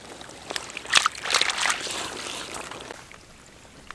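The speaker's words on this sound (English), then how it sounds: "you can see it's already a much smaller stream, and it also comes from a few places like here, here" Rainwater runs in a small stream over a hill, a light trickle and splashing close by that rises briefly and then fades to a soft, steady flow.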